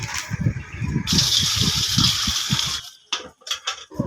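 Water gushes and splashes loudly and steadily into a bucket at close range for nearly three seconds, then stops abruptly, leaving a few short splashes and drips.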